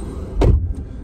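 A car door is shut with a single solid, close thump, followed by a faint click, over a low background rumble.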